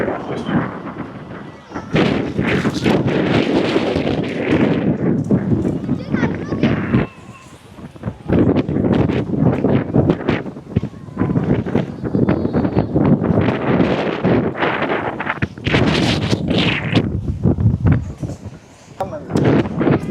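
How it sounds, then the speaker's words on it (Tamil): Strong wind buffets the microphone on a Kerala beach, loud gusty roaring in surges with short lulls, and someone talking under it. "பயங்கர காற்று வச்சுருக்கேங்க."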